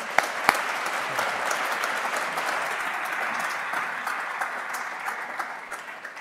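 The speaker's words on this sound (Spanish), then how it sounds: "un aplauso para él" A seated audience at a talk on HR strategy breaks into applause for the speaker José Luis Risco: dense, steady clapping with a few sharp individual claps early on, holding at even level throughout.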